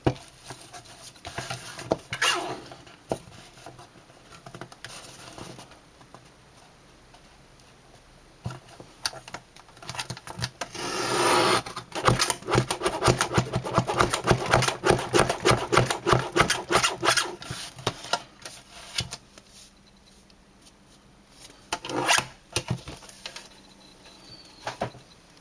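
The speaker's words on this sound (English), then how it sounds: "I'm going to cut this so I can make sure it's even" Scissors or a blade cut through card stock for a poinsettia Christmas card in a run of close, rapid rasping snips, with quieter handling and rustling before and after.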